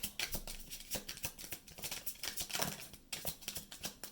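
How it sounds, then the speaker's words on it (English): Tarot cards being shuffled by hand, quiet close riffling and tapping in quick irregular bursts of crisp clicks, alone without talk. "Okay, I'm going to do one last shuffle."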